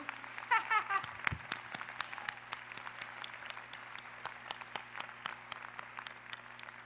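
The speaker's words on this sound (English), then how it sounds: "Graduates, please join me in applauding these very special people, the ones who have helped you." Scattered applause from graduates at a nursing college commencement ceremony in 2015, individual claps spread across a large hall, fairly faint and distant, with a brief voice near the start.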